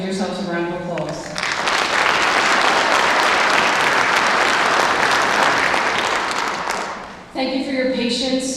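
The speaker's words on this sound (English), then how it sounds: "have everyone give yourselves a round of applause" An audience at a border patrol class graduation ceremony breaks into dense, sustained applause lasting several seconds, framed by a speaker's voice before it swells and as it fades.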